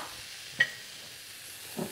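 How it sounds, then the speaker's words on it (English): Vegetables stir-frying in a wok make a soft continuous sizzle, broken by a sharp clink and a brief rustle as they are tossed, near and without talk. "bring the rest of the veg over the top. Flick those through."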